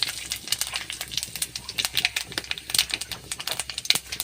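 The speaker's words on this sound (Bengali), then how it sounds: "গোটা জিরে আমি কড়ার তেলের ওপর দিয়ে দিলাম" Whole cumin, cardamom and bay leaves sizzling in hot oil in a wok, with dense rapid crackles and sharp pops scattered throughout, close and moderately loud.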